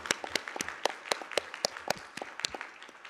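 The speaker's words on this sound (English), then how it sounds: "let's give them a applause" Audience at a UFS-EPIC workshop applauding, a short run of sharp, spaced hand claps, fairly quiet and slightly distant in an indoor room.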